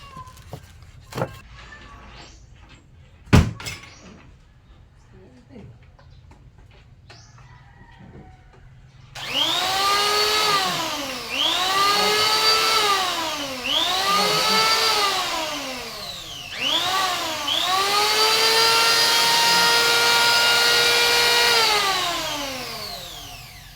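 A Lotus portable vacuum cleaner starts partway through after a quiet stretch with small knocks. It then whines up and down in repeated swells before holding a steady, loud whirr close by.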